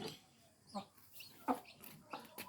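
Chicks and hens in a home yard let out faint, scattered clucks and peeps, a few short calls spread across a quiet background.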